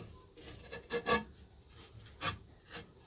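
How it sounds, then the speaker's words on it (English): A cast iron charcoal grate is set into a ceramic kamado grill, giving a few short scraping, rasping metal-on-ceramic contacts, close and fairly quiet, with no voices. "Now we're going to add the cast iron"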